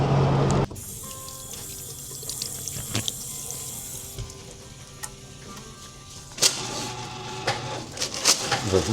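Water runs from a tap into a sink during wudu ablution washing, starting with a loud gush, then a steady softer flow with clinks and splashes, swelling again near the end.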